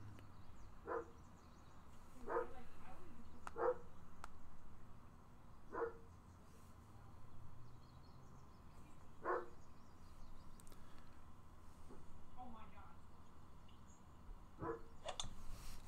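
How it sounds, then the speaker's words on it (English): A dog left outside barks in scattered single and double yaps, sounding somewhat distant and muffled through a quiet indoor background. "I left my dog outside."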